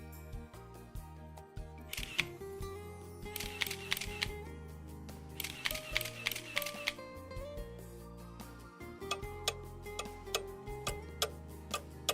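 Crisp camera shutter clicks fire in rapid bursts, pausing between runs, over a steady tonal backdrop with faint ticking.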